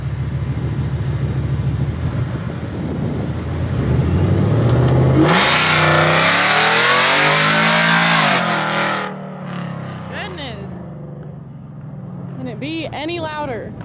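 A loud supercharged work truck engine revs up hard, roaring and distorted, then drops off; voices talk over it at the start and after it settles.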